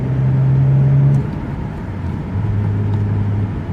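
A 1990 Nissan Skyline GT-R with a tuned turbocharged engine drones steadily while cruising, a loud, close, low rumble that holds one tone, dips briefly, then settles at a slightly lower pitch.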